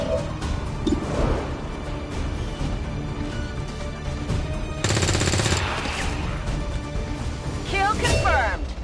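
Video game gunfire rattles in rapid bursts against armed enemies, with dense crackling volleys that swell into louder salvos near the middle and the end.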